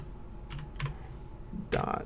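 Quiet keystrokes on a computer keyboard, a few scattered soft taps followed by a brief quick cluster of typing over a low background hum.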